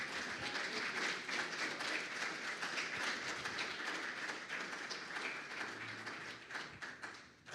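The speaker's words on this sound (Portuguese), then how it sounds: "Você pode aplaudir a Jesus por isso?" A church congregation applauds Jesus during a Portuguese-language sermon, a dense, sustained wash of many hands clapping that holds steady throughout, with no voice above it.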